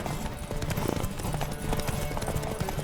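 Hooves of Roach, Geralt's horse in The Witcher 3, galloping in a steady clip-clop rhythm, fairly loud and continuous under game ambience and music.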